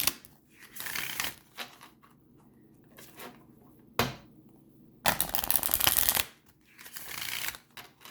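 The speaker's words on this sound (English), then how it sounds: "For those that don't like the talking and the shuffling, my apologies." Tarot cards are shuffled by hand in close, papery bursts of riffling and sliding, one long loud run near the end and shorter flurries between quiet gaps.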